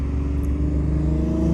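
A straight-piped Dodge Charger R/T on a downtown street gives off a deep, loud, steady exhaust rumble close by, holding a low drone with a slight swell near the end.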